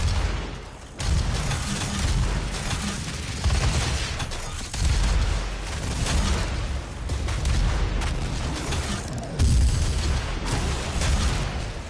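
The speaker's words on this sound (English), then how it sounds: "All I could do is keep blasting him. Rocket launcher." Rocket launcher blasts in the video game Doom boom repeatedly, heavy, loud and close, with several big explosive thumps over continuous rumbling game noise.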